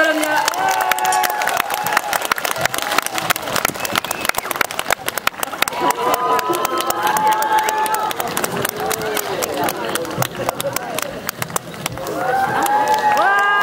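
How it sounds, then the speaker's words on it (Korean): A crowd at the 10th Gyeyangsan Gugak Festival, a Korean traditional music concert, applauds loudly and steadily with scattered cheers and whoops, a dense wash of clapping running the whole stretch with voices shouting over it. "OBSG 4BS 큰 박수로 맞이해주시기 바랍니다."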